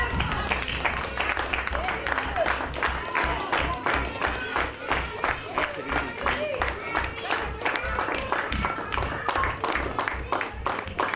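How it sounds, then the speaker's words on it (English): Spectators at a school sports day clap in a sharp, rhythmic patter of individual hand claps, close and fairly loud, with children's cheers and voices running underneath. "Let's clap for Avnish"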